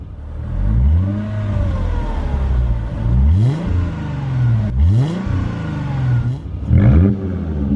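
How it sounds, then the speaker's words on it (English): A rare 6-speed Mercedes C320 W203 with a cheap straight-piped exhaust, heard from outside as it is blipped through three sharp revs, each rising to a raspy roar and falling back to a burbling idle. "Jeffrey, give me a couple revs."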